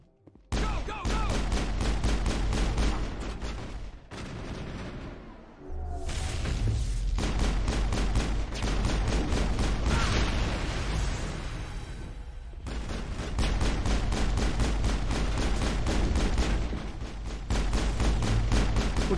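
Rapid pistol fire in Mass Effect, a fast, relentless stream of shots that is loud and close, broken by a couple of short pauses before resuming.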